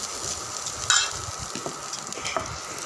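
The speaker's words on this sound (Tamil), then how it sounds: "நல்லா ஒரு 3 நிமிஷம் வதங்கட்டும்." Onions and spices with turmeric and chilli powder sautéing in a pan for pasta, a steady close sizzle with faint stirring scrapes and one sharper clink of the spoon, no voices.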